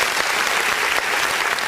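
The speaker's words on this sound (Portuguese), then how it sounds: "Vamos aplaudir o nome do Senhor Jesus." A church congregation claps together at a worship service, a dense, steady burst of applause filling the room for a couple of seconds without any voice over it.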